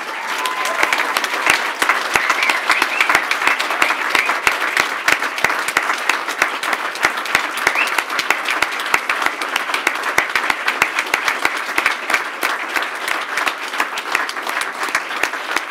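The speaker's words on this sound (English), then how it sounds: "Big round of applause to them, please." An audience at the Royal College of Surgeons diplomate ceremony applauds loudly and steadily, a dense, sustained clatter of many hands clapping with little crowd noise and no speech over it.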